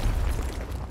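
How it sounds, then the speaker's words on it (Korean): A grenade blast in the Call of Duty 4: Modern Warfare Remastered game, a loud, dense low rumble that fills the whole brief moment with no clear separate onset, heard alone. "얘 수류탄 미쳤네"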